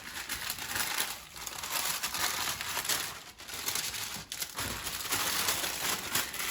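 Paper crinkles and rustles softly and close up as it is folded around sardines before pan cooking, a steady faint crumpling with brief pauses and no speech.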